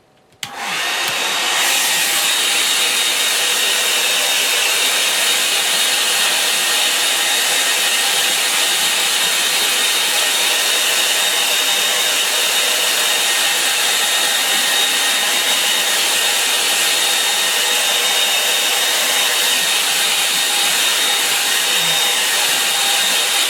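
Hair dryer drying a watercolour salt marsh painting: switched on with a sharp click, then a steady loud whooshing roar held without change, close and alone.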